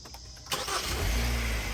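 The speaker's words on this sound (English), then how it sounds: "you're going to want to start the car for a couple of minutes" A 2016 Kia Optima with a 2.4L engine cranks and fires up after a quiet moment, then settles into a steady, close idle with no voices.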